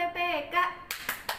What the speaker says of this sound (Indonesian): kita tepuk PPK